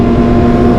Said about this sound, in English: By the sound of their engine, I know they are very serious right now.